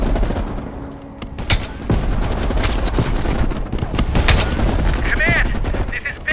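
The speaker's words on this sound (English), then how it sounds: "You readied your sniper rifle to assist." Dense, loud gunfire with rapid bursts and heavy booms in a Call of Duty Black Ops Cold War battle, with sharp individual shots standing out and voices calling under the din.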